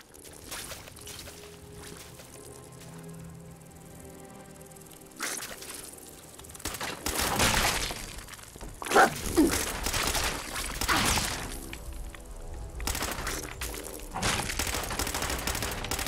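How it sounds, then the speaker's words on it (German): Gunfire in the Fallout 4 video game, heard from a distance: scattered bursts and volleys of shots popping up between quieter stretches of game ambience, with some rapid runs of fire later on. "Ich höre Schüsse in der Ferne."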